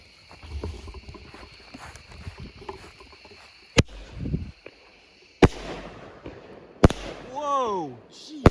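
A Kripton Big Shark 9-shot 200-gram firework cake goes off in several sharp, loud bangs spaced seconds apart, the last one followed by a rising whistle and crackle.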